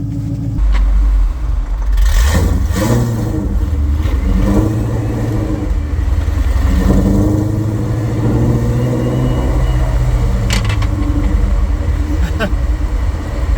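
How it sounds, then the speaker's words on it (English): A 2003 Ford SVT Cobra with a face-plated transmission driving, its engine rumbling and revving through shifts with a clunk between gears, heard from inside with a person talking over it. "But you hear that clunk between gears"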